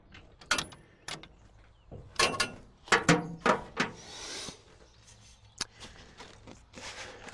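Box end wrench tightening the nuts and bolts on a pickup truck bed header, heard as a string of close, sharp metallic clicks and knocks in uneven bursts, with short ratchet-like scrapes between them and no talk.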